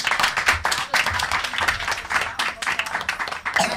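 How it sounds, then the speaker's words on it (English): Dense audience applause at a Christmas show, many hands clapping steadily and loudly throughout without a break, with faint voices mixed underneath. "give them both a good round of applause"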